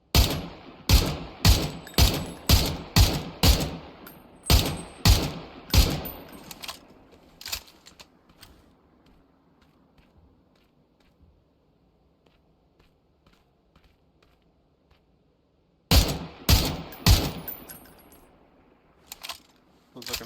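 Rapid bursts of gunfire in the video game PUBG crack in quick succession, go quiet for several seconds with faint background noise, then resume in another short volley.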